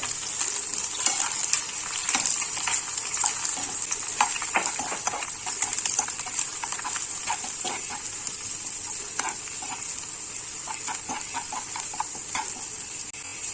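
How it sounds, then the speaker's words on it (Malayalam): Sliced onion and curry leaves fry in hot coconut oil with a steady, bright sizzle, broken by frequent crackles and the scrape of stirring in the pan, and no one speaks. "ഉള്ളി ചേർത്ത് കഴിഞ്ഞിട്ട് നമ്മൾ നേരത്തെ മാറ്റി വെച്ചിരിക്കുന്ന കറിവേപ്പില കൂടി ചേർക്കാം"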